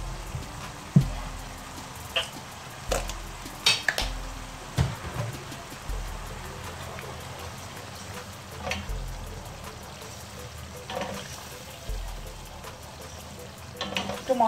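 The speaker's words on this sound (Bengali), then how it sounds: "মশলাটার সাথে মিলিয়ে নিচ্ছি।" Tomato ketchup being stirred into oily, sizzling masala in a pan while preparing a chicken-stuffed pointed gourd dolma: a steady low frying sizzle with occasional sharp spoon scrapes and taps against the pan, close and moderately loud.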